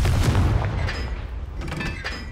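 A Confringo fire spell blasts in the Hogwarts Legacy video game, a booming explosion with crackling debris that fades over a couple of seconds, with no voices.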